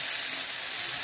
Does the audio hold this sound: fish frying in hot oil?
yes